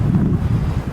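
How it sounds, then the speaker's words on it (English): Blizzard wind gusts buffet the microphone in a loud, continuous low rumble that swells and dips throughout, with no voices. "gusts coming in about 30 miles an hour every once in a while"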